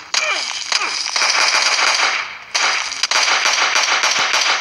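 Rapid automatic gunfire in the mobile shooter PUBG Mobile: loud, close, rattling bursts of shots in quick succession, broken by a brief pause before the firing resumes.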